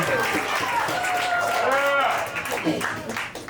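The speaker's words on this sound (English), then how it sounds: "Give them a nice round of applause." Audience applause and cheering after a comedy roast battle at a live comedy show, a dense wash of clapping heard over talk and crowd noise.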